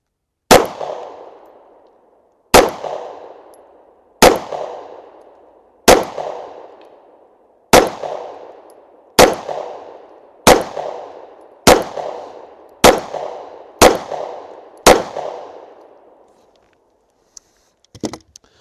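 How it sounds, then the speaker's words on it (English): Springfield Hellcat pistol fired at a small green target: about a dozen sharp, loud, close gunshots at a slow, fairly steady pace, each with a ringing decay, then quiet with a few faint clicks at the end. "I'm going to shoot the Hellcat right now."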